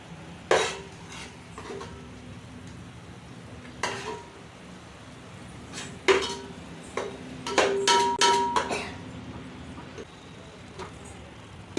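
Rice layered into a pot over egg biryani gravy with a spoon, giving scattered clinks and taps against the pot and a few bursts of scraping and stirring, separated by quiet gaps, nearby.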